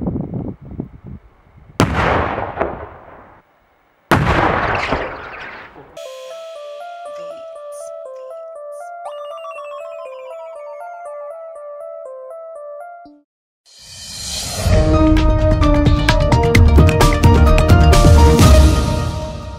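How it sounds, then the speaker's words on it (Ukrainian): An artillery shell is destroyed in a controlled detonation in Zolochiv, Ukraine. Loud blasts boom at the start, followed by a long stretch of steady tonal sound. A final sustained roaring burst comes near the end. "Увага! проводиться підрівні роботи. Готов! Огонь!"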